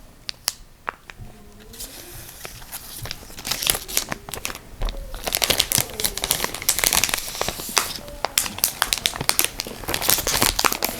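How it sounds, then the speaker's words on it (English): Plastic wrap being torn and peeled off an iPhone 12 Pro box, giving dense crinkling and crunching up close with sharp tearing snaps, busier toward the end. "So let's go ahead and take the plastic off."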